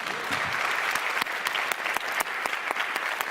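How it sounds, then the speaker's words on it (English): Steady audience applause fills a press conference hall, dense and even clapping throughout with no speech. "please give a big applause to Jon Ola Sand and Sietse Bakker"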